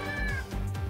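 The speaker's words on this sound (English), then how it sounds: "As you can hear him meowing in the background." A pet cat meows loudly and close by, a short drawn-out cry heard alone without talk.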